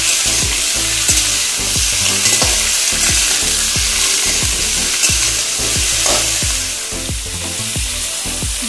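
Mango pieces frying in hot oil, a loud dense sizzle close by with a steady run of quick spatula scrapes and knocks against the pan throughout.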